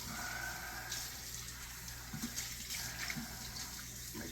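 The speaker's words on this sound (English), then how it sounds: "I rinse all the bleach water out." Running water rinsing bleach off ball python enclosure items, a steady broadband gush like a tap or tub, continuous and fairly close throughout with no voices.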